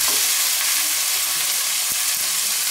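Carrots sautéing gently in a pan give a continuous bright sizzle with a few soft stirring knocks, heard up close with no talking.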